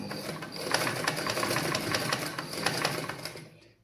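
A tailoring sewing machine stitches fabric in a steady, fast run of rhythmic needle chatter that is close and fairly loud for nearly four seconds, then cuts off abruptly, with no voices.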